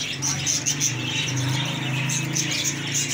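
Small birds chirp in quick, bright bursts at a parrot and bird market, several calls overlapping at close range over a steady low crowd hum.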